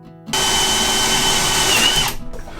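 A power drill drives 2.5-inch construction screws into the wooden interior of a garden shed being turned into an off-grid bathroom, making a close, loud whine that lasts under two seconds and winds down at the end.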